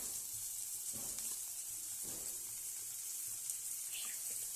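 Goat brain frying in masala over a low flame: a steady, soft, even sizzle and hiss that runs throughout, close but quiet, with a few faint taps of a spatula against the pan.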